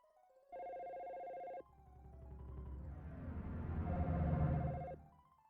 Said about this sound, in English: If you set the line to hold, the phone will continue paging.